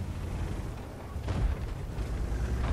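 Tank cannon fire in the video game World of Tanks, with an AMX 30 facing a T30: a deep rumbling boom swells midway, followed by more low rumble with no speech.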